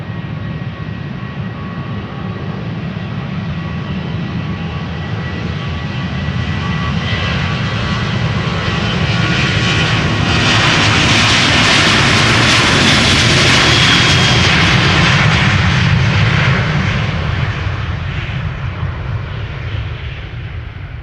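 A KLM narrow-body jet on flight 1137 to Dublin takes off, its engines rising from a distant whine to a loud, rushing roar that peaks in the middle and then recedes into the distance, with no speech.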